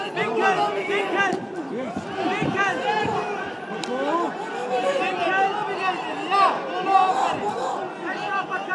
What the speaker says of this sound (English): Crowd going berserk here.